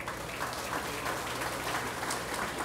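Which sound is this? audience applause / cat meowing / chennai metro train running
audience applause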